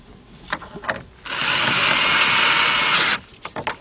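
Power drill or driver running bolts into the middle sliding door rollers of a 2008 Honda Odyssey 3.5 minivan: one steady sustained whir of about two seconds, close and loud, framed by a few short clicks and clatters.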